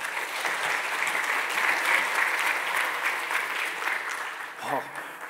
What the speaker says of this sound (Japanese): どうぞ拍手でお迎えください。